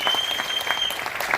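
Audience at a direct selling summit panel discussion breaks into steady, dense applause, a continuous clatter of many hands clapping at close range with no voices over it.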